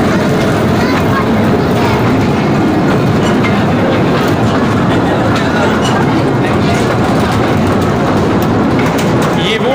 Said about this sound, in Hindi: ये वो उन्होंने अंदर ट्रेन एक बनाई है जो क्या कहती है लोगों को अंदर लेके जाती है।